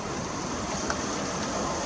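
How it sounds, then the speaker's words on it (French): Strong gusts of wind roar in a continuous broadband rush during a squally rain shower at Sallanches in the Alps, buffeting the microphone with little letup. "Là ça souffle bien. Ouh là là, la rafale qu'il y a."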